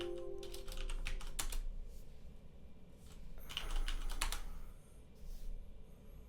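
Keys on a computer keyboard being typed in two short bursts, clicking quickly and fairly close, with a brief pause between the runs and a quiet room underneath.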